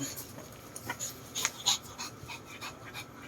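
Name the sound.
dog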